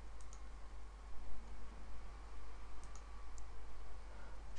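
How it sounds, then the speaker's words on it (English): A computer mouse clicks forward through a slideshow: a few sparse, soft, close clicks spaced irregularly over a steady low hum and faint room hiss, with no talking. "Just keep on clicking."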